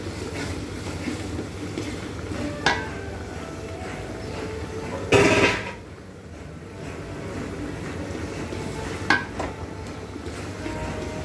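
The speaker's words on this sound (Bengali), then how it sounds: "মশলাটাকে ভালোভাবে কষিয়ে নেব।" Spices fry and are stirred in a pan for a raw mango pickle, giving a quiet, steady sizzle broken by a few louder scrapes and clinks of the spatula against the pan.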